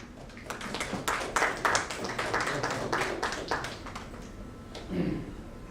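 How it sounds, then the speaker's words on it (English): An audience at a banking panel discussion claps to welcome panelists on stage, a moderate round of distinct claps that is uneven at first and then thins out, with a brief voice near the end. "may I request you to please give a round of applause and welcome all our panelists and the moderator on stage"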